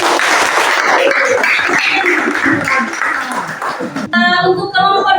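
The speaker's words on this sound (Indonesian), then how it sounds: "demikianlah untuk kelompok 1 tepuk tangan" Classroom applause for a student presentation group, a burst of clapping that runs steadily for several seconds before fading, with voices mixed in near the end.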